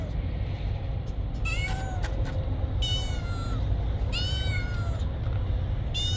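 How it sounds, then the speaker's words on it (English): A cat meows three times, drawn-out and plaintive, over a constant low rumbling background. "And it sounds like a cat."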